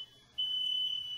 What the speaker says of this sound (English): That is the fire alarm in my house.